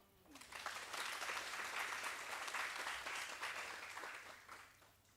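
A room of attendees at an occupational therapy research day claps for a teacher, dense steady applause rising quickly, holding for several seconds and then tapering off.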